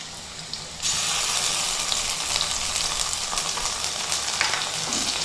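Ginger garlic paste dropped into a pan of onions, bursting into a loud, steady hissing sizzle that starts suddenly and continues with small crackles.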